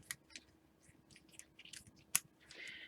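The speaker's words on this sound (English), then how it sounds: "So I just use my little curved embroidery scissors" Small curved embroidery scissors snip along a stitch line on a clear vinyl pocket, giving several quick, crisp close-up cuts spread across the moment with one sharper snip near the end.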